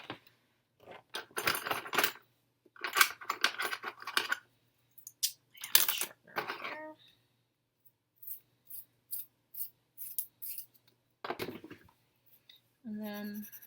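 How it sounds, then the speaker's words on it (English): A graphite HB pencil being sharpened by hand, heard as several short bursts of scraping and grinding separated by pauses, close and fairly quiet, with no talking. "I'm going to have to sharpen that because my pencil is really low."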